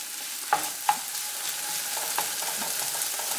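Sliced yellow potato and half a red onion frying in a pan on medium-high heat for a Spanish tortilla, giving a steady soft sizzle with two sharp clinks of stirring near the start.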